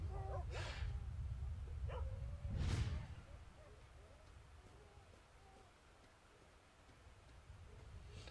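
Dogs in the S.T.A.L.K.E.R.: Shadow of Chernobyl game, heard as a couple of short barks or yips over a steady low ambient rumble, with one louder burst near the start.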